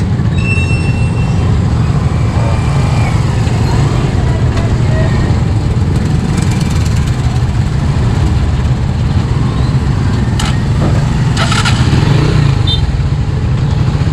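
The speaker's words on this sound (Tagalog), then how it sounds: "Ingay ng tambutso na ito." A loud, rough motorcycle exhaust rumbles steadily throughout, close by, with street traffic noise and some talking in the background at a market in Arayat on a rainy day.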